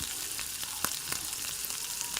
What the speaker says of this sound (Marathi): उडदाची डाळ तेलामध्ये छान परतून घ्यायची